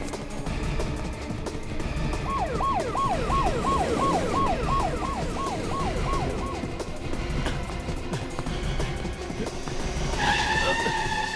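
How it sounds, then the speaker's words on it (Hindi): A car speeds off in a police chase, its engine roaring steadily under a rhythmic rising-and-falling siren for several seconds, with another high, steady tone appearing near the end. "फ्रेडी, गाड़ी में बैठो, जल्दी भाग के जाएगा कहाँ?"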